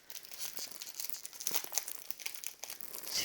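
Pokémon Sword and Shield booster pack foil crinkles and tears steadily as packs are opened up close, a continuous papery rustle with small crisp crunches.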